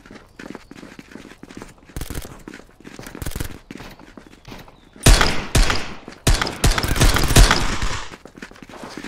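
Gunfire in the VR shooter Contractors in survival mode, scattered single shots at first, then a heavy close cluster of rapid loud bursts with brief gaps between them.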